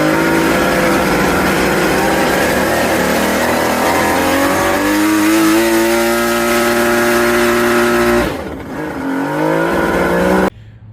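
Ported 1100 personal watercraft engine with 44 carbs on a dyno pull, roaring loud and close as revs climb steadily, then cutting off into a brief sputtering idle before abrupt silence.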